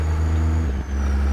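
A Kenworth W900A truck engine in American Truck Simulator drones low and loud, with a brief dip and pitch change as a gear split is made, then the steady rumble resumes.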